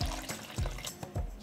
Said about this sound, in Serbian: Sipam toplu vodu